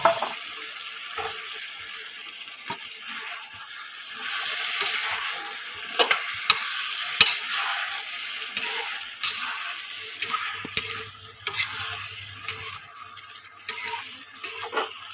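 Chicken meat being stirred in a pan with bay leaves, spices and a little hot water, giving steady soft scraping and a gentle sizzle with occasional sharper clinks, close and continuous, with no talking.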